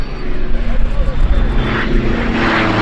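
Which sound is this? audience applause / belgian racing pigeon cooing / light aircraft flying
light aircraft flying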